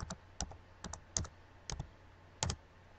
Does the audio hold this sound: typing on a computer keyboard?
yes